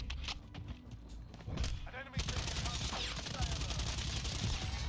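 AMP63 pistol gunfire in a video game, a few quiet muffled shots early on, then a denser stretch of rapid firing with thuds beneath a speaking voice.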